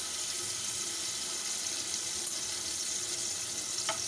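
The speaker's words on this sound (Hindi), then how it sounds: "थोड़ा सा हम लहसुन को भून लेंगे।" Minced garlic, about a teaspoon, frying in a spoonful of oil in a pan, giving a steady soft sizzle that holds evenly throughout with no talking.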